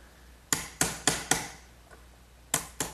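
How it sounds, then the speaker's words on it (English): A sharp chisel cleans out mortises in wood for a trestle table, giving six crisp, close strikes in an uneven rhythm with brief pauses between them. "Now I'll clean out the rest of these 2 mortises with a good sharp chisel, just as before."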